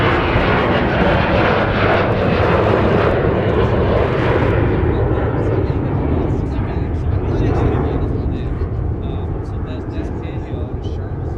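A Delta airliner takes off from runway 30 left at Minneapolis–St. Paul airport, its engines a loud, steady roar that slowly thins and recedes into the distance, with no talk.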